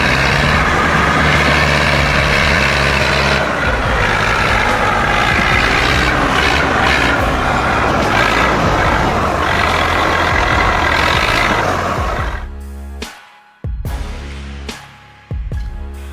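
A heavy truck hauling a 400-cubic-foot load of timber gives a loud, steady engine roar for about twelve seconds, then cuts off abruptly, leaving a few short, separate bursts.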